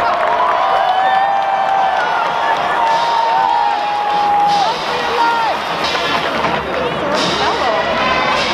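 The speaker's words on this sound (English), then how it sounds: "Ladies and gentlemen, your UCLA crowd!" A UCLA crowd at a football game cheers, a dense, loud and steady roar with whistles and shouts layered through it for the whole stretch, with some talking over it.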